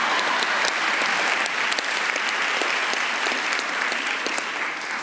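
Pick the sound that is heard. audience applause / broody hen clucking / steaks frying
audience applause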